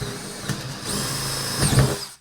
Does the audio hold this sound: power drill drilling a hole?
yes